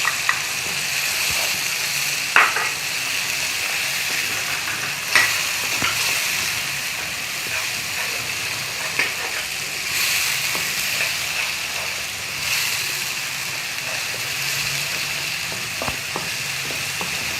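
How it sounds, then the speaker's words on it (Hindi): Masala with red chili powder frying for dum kabab, a steady bright sizzle throughout with occasional scrapes and taps of a stirring spoon against the pan. "मसाला अच्छी तरह आपने इसको भूनना है।"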